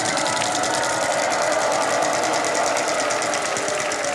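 A game show prize wheel spins on a studio set, giving off a fast, even clicking rattle that runs loud and unbroken throughout with no voices over it.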